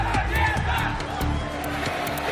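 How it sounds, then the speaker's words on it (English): A large crowd roars at a Wargaming.net League World of Tanks esports event in Kiev, a steady loud wash of cheering and shouting with no pauses across the short stretch. "The roar of the crowd and the tension play their part."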